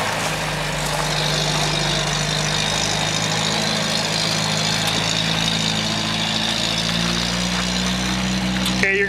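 A Datsun 521 pickup engine runs steadily as the truck is moved into a backyard, a continuous low idling drone that stays close and even throughout, with faint background voices.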